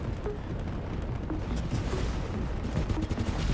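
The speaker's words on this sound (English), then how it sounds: "Lots of rockets going back and forth across center." Rockets firing back and forth in the War Robots mech game, a faint, steady rumble of distant launches and blasts with scattered sharper pops throughout.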